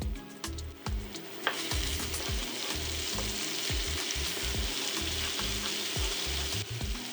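Garlic ginger paste frying with caramelized onions for a beef short ribs masala, with a steady sizzle and repeated spoon scrapes and clacks against the pan, sounding close and clear with no voices.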